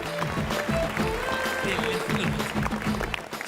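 A studio audience claps for a team on a televised music competition show, the applause blended with talking voices and some crowd noise throughout.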